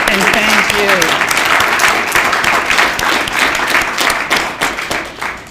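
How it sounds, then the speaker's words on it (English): A crowd at a youth justice lobby day breaks into loud, sustained applause, a thick roar of clapping that slowly thins toward the end, with a voice briefly heard at the start. "So I want to give all of you a round of applause and thank you."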